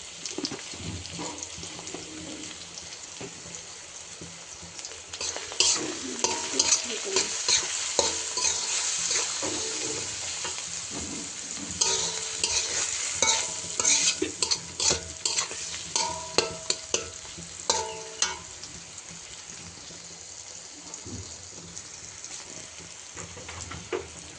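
Leafy greens stir-fried with a little turmeric and dried fish, cooked in a Bangladeshi-style vegetable fry: steady close sizzling with repeated scraping and stirring strokes, growing busier midway and continuing to the end, with no talk.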